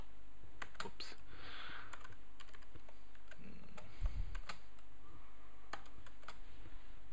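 Sparse clicks of typing on a computer keyboard while working in GNU Emacs, scattered keystrokes at close range with quiet pauses and a low background hum.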